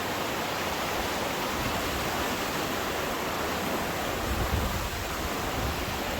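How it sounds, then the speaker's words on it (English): The Appalachian River near Erwin, Tennessee, on the Appalachian Trail, rushing in a loud, continuous broadband roar close by, with no one speaking. "Look at that river."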